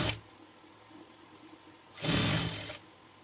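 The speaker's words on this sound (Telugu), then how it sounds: "చివరన ఫోల్డింగ్ చేసి ఒక కుట్టు కుట్టేసేయండి" Sewing machine stitching along the folded edge of a blouse, a steady mechanical whir that surges louder in a short burst partway through, close up and with no voices.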